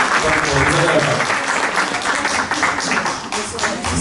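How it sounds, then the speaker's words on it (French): Audience applause for the mothers at a community evening event in Valenton, a dense, steady wash of many hands clapping throughout, moderately close, with voices mixed in. "Donc applaudissez pour elles."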